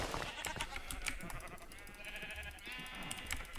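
Sheep in a Minecraft zoo modpack bleat repeatedly in quick, wavering calls, fairly faint and set against light game background sounds.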